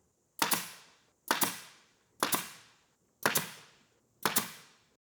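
A brad nail gun drives nails into an assembled diagonal corner wall cabinet. There are five sharp, evenly spaced pneumatic shots roughly a second apart, each a loud crisp crack with a short tail, and no talk.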